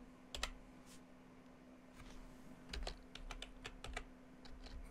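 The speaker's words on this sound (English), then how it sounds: "my keyboard is freaking out here" A computer keyboard clatters during a Pokémon card deck-building session, bursts of sharp key taps and clicks, some single and some in quick runs, faint and close over a low steady hum, with no talk.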